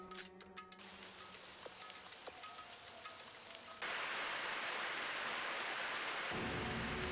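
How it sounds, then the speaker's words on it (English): Heavy rain from the video game Super Danganronpa Another 2 pours as a dense, steady wash that turns abruptly louder midway and stays loud and unbroken to the end, with no talking. "Why is it raining inside or something?"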